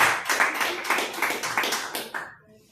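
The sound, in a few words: applause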